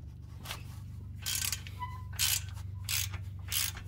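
Wrench with a 12 mm socket loosening a skid plate bolt on a Nissan R50 Pathfinder or Infiniti QX4, heard as a series of quiet rhythmic ratcheting clicks over a low steady hum.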